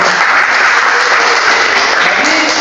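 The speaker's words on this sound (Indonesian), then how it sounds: "Berikan tepuk tangan untuk kelompok." A classroom audience at a teacher-training session applauds a group, dense steady clapping held at an even loud level throughout, with a faint voice near the end.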